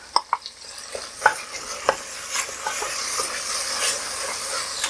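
Green chilies go into frying onions with several sharp utensil clacks and scrapes over a soft, continuous sizzle that settles into steady frying.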